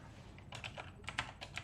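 Quick clicks of typing on a computer keyboard, close and fairly quiet, with irregular bursts of keystrokes and no talking.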